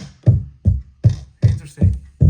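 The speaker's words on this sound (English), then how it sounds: "it sounds like a clipping on the one side. Hard clipping distortion." Hard one-sided clipping distortion on a Wobbler 2 eurorack drum synth: six heavy, distorted low drum hits at a steady pulse, each with a gritty, saturated body and a short decay.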